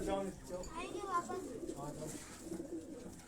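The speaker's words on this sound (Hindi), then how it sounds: "ये देखें इन कबूतरों को माशाल्लाह" Sialkoti pigeons, part of a crossbreeding line, coo softly in low, repeated murmurs, mixed with nearby chatter and background voices.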